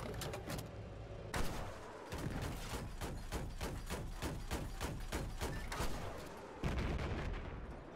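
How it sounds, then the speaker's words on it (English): Battlefield 4 LAV armored vehicle firing TOW missiles and rapid 25mm cannon shells in a game: a steady run of loud, close bursts of shots, with heavy booms near the start and end, no talking. "open up with a tow missile, swap to your primary, unload 12 shots, and then immediately fire another tow"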